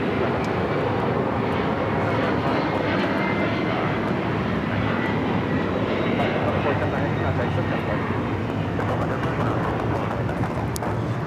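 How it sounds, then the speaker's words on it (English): A LATAM Airlines Boeing 767-300ER jet takes off at LAX bound for Lima, a broad continuous engine roar filling the scene steadily at close range. "2479 taking off to Lima on the 767-300ER"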